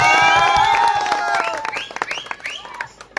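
An audience claps and cheers at a Ganesh festival foot-worship ceremony held by a local mandal, the loud burst of applause mixed with raised voices and fading into scattered claps.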